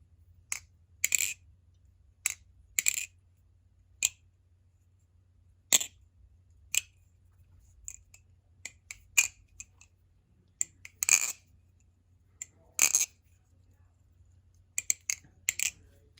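Mechanical keyboard with matte keycaps clacking in irregular bursts and single presses, crisp and close, separated by short quiet gaps over a low hum.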